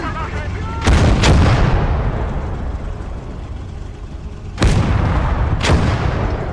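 Heavy artillery fires in the World War II game Gates of Hell during a German frontal assault, two pairs of loud, close booms about four seconds apart, each with a long rumbling tail over constant battlefield noise.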